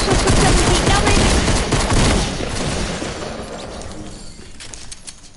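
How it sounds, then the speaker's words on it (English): Gunfire in the Fortnite video game, shot through a wall, comes as a loud rapid burst of automatic fire that thins out and fades over a few seconds. "He literally started shooting me through a wall"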